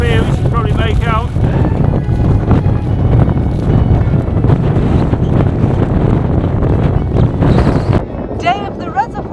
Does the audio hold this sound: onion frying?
no